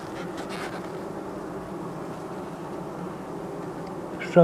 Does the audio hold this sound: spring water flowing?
no